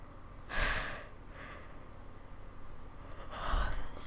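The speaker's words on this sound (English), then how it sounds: "So I just had to yawn." A person yawns twice, each a long breathy exhale that swells and fades, close to the microphone against a quiet room.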